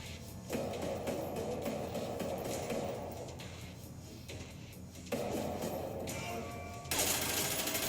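Rapid gunfire bursts from a movie scene with trained killers, loud and dense, coming in several sections separated by brief drops, with a sharp burst near the end.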